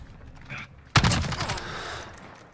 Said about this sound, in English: Not too great hip fire on that, you can see.